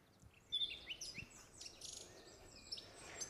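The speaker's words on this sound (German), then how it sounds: "Dann der Sampler. Dann machen wir mal Vögelgeräusch." Bird calls triggered from a sampler during a live electronic music setup: a quiet bed of chirps and tweets with several sharp, high whistled notes scattered over a few seconds.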